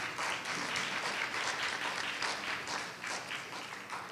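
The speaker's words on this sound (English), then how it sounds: "Let's hear one more round of applause for that." Audience applause follows a dance performance accompanied by an orchestra: moderately quiet, rhythmic clapping that stays even throughout the short stretch, with no voices over it.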